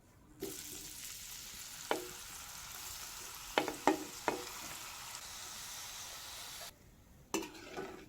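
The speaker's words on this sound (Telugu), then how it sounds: "పన్నీర్ పీసులు ఇప్పుడు ఇందులో వేసి వేయించుకోవాలి" Paneer pieces fry for biryani in a pan with a steady, soft sizzle, as a utensil stirs them with several light clinks before the sizzling drops away near the end.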